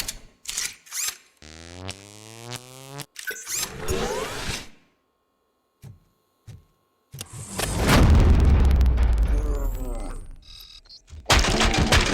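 Several sharp bursts of gunfire and a heavy explosive rumble from the video game RoboCop: Rogue City, mixed with musical tones and effects, with quiet gaps between the loud stretches.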